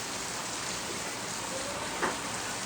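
Rain falls in a steady, even hiss, heard from a short distance with no other sound rising above it, apart from a brief faint chirp near the end.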